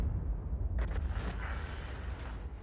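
Self-propelled artillery fires in a tank battle video game, a single deep booming shot with a rolling low rumble and a lingering crackling tail, heard alone without talk.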